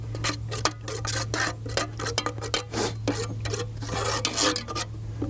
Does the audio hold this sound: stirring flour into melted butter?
yes